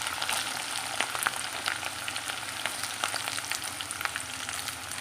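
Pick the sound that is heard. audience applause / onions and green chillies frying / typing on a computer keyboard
onions and green chillies frying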